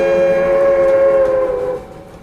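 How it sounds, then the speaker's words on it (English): The first train of the day arrives at a station, its wheels letting out a loud, sustained high-pitched squeal that holds steady and then fades away. "the first train of the day draws squealing into Junction across town"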